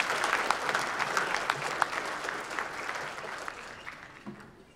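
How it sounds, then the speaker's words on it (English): An audience at a conference plenary session applauds after a talk, dense clapping from many hands that starts full and gradually thins and fades toward the end. "let's give Paul a round of applause for a great talk"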